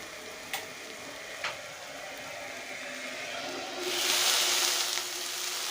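Ingredients frying in a pan for Assamese muri ghanta, a continuous sizzle with two sharp utensil clinks early on and a louder hissing surge near the end.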